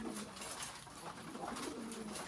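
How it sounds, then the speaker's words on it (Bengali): Lahori pigeons of many colours at a farm, cooing softly and intermittently over a steady, faint wash of background noise, with no voices. "আমার সামনে কিছু লাহোর কবুতর দেখতে পাচ্ছেন"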